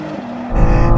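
BMW XM and BMW M2 in a drag race rushing past, a rising engine roar that swells suddenly halfway through and stays loud and close.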